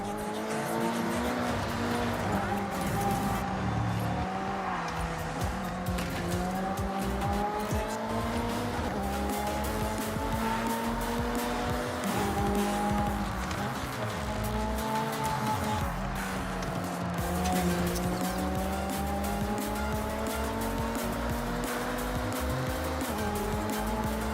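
Race cars in Forza Horizon 6 drive continuously, with engine tones rising and falling through gear changes and tires squealing, loud and unbroken the whole time.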